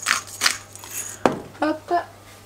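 Utensil clinking and scraping in a baking dish while the ingredients of a leek, bacon and ricotta pasta gratin are stirred together, a few sharp clatters between brief voices.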